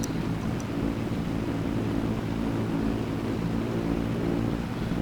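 In Farming Simulator 22, a Steiger tractor engine drones steadily and loudly on a western Australia map during a corn harvest, a constant low rumble with no break and no talk.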